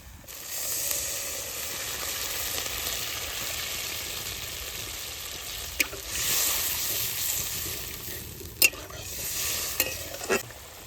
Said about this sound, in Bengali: পোস্ত দিয়ে বেশিক্ষণ ভাজবো না একটু নাড়াচাড়া দিয়ে জল দিয়ে দেবো